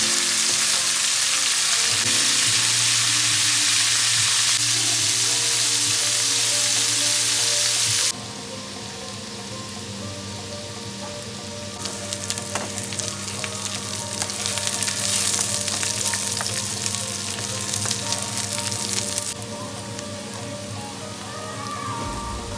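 Mixed vegetables fry in a pan, starting with a loud, rain-like sizzle that drops abruptly to a softer, crackling fry with occasional stirring swells, close and steady throughout.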